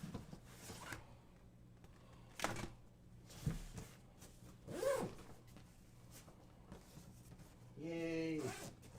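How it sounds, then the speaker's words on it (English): A double zipper on a product box or case being pulled open, a few short rasping zips with rustling and handling noises, close by during a gaming live stream, with people talking faintly around it. "Is there a double zipper here? There is."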